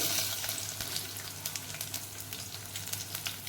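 Cumin seeds, a few fenugreek seeds and crushed garlic frying in hot oil for a tempering, a steady bright crackling sizzle with sharp spits and pops throughout, close and moderately loud, with no talk.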